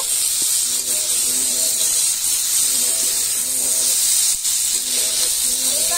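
Cumin and coriander powder fry in a pan with potatoes and drumsticks for a village-style sojne alu chachori, a loud, steady close hiss and sizzle throughout, with a voice speaking faintly underneath.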